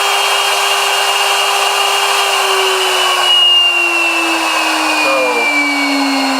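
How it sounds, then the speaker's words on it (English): CNC spindle running at speed, a loud steady high whine with a constant tonal hum that stays even across the whole stretch, heard close up with no talk over it. "that's how loud the spindle is."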